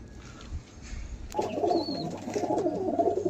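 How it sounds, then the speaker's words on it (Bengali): Pigeons for sale coo softly and repeatedly, a close, low burbling that swells after a brief quiet start, with a faint bird chirp above. "গাইস দেখুন এত পায়রা এখনো আছে"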